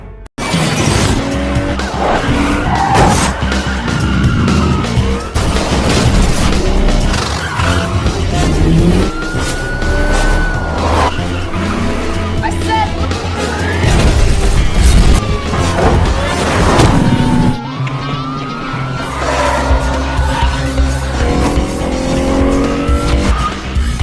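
A car reversing and racing away in a film police chase: loud roaring engines, screeching tire skids and sudden crashes with shattering glass, dense and continuous throughout.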